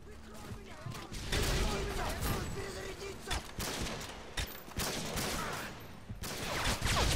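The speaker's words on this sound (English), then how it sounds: "I'm using a silenced intervention" Silenced Intervention sniper rifle and other gunfire in an online shooter game, a busy spread of sharp cracks and bursts at varying loudness over several seconds, with a player talking over parts of it.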